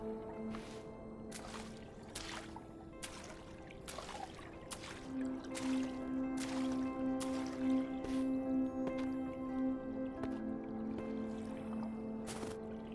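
Water in the snowy, surreal speedwalking video game Chionophile, with soft splashing and dripping repeating at regular intervals over a steady ambient drone and a sustained musical tone.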